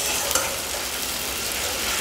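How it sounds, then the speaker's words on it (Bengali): Ginger and green chilli spice paste fries in a pan while being stirred, giving a continuous loud sizzle with a small scrape near the start. "ভালোভাবে নেড়ে চেড়ে মশলাটাকে ভাজা ভাজা করতে হবে।"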